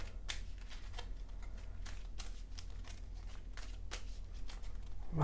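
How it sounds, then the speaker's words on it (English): Marvel Champions cards are shuffled into a deck close by, with a run of crisp riffling bursts and flicks and no talk. "shuffle this into the deck"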